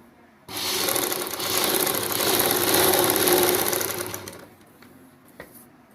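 A sewing machine stitches corded piping onto fabric for a choli, a steady fast mechanical whir starting abruptly, running for several seconds, then stopping, followed by faint clicks nearby.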